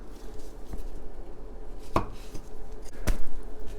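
A kitchen knife chops the dry root end off a garlic bulb for a Japanese beef curry, giving two or three sharp, isolated cuts against a board with quiet pauses between.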